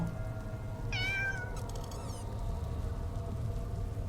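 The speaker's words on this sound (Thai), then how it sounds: "ผมได้ยินเสียงแมวครับ แต่ผมไม่เห็นตัว" A single cat meows once in the horror video game The Floor Above, a short rising-falling cry over a constant low hum, faint and somewhat distant.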